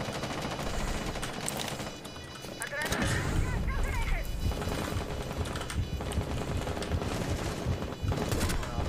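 Shotgun blasts in a first-person shooter game, sharp bursts mixed with other gunfire under excited speech from a player.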